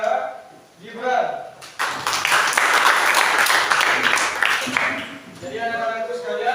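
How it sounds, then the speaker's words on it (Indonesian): An audience bursts into lively applause at a school presentation, a dense burst of clapping lasting several seconds, with talking heard before and after it. "beri tepuk tangan yang meriah kepada Gibran."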